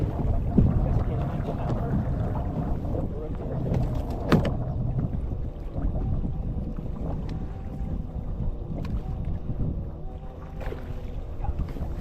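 A bass fishing boat runs across open water with a steady, loud engine drone and hull wash, buffeted by wind noise, with occasional knocks over the constant roar.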